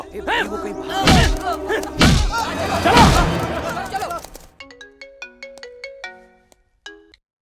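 A mobile phone ringtone plays as a melodic run of bright electronic tones, first heavy with thumping beats and loud layered music, then clean bell-like notes alone before it stops, in a Hindi-dubbed South Indian comedy film.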